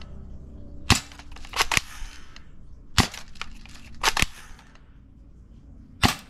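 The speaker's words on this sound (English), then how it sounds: "Something about backyard spring guns that are just so fun." A cheap spring-powered airsoft rifle fires in a backyard, about seven sharp snapping shots, several in quick pairs, with faint mechanical clicks and rattles between them.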